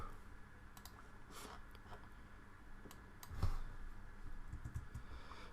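Computer keyboard keys are pressed in a faint, irregular scatter of light clicks, with one slightly sharper tap partway through against a quiet background hum.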